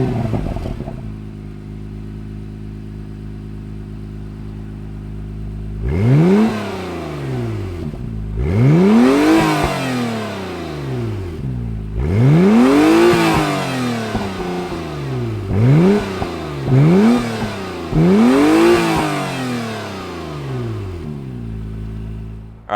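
A 2017 Acura NSX's twin-turbo 3.5-liter hybrid V6 revs repeatedly, several sharp climbing blips falling away between them, close and loud with an idling rumble underneath.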